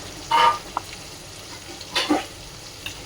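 Ginger paste and tomato are fried and stirred in a pan. Two short bursts of sizzling scrapes sound close by over a quiet background.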